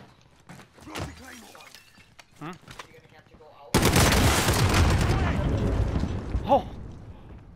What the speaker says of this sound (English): I got him with a rocket.